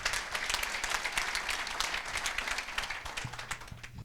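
A church congregation applauds steadily during a gospel service, a dense and sustained wash of clapping that fills the room from start to finish, with a low sustained tone entering near the end.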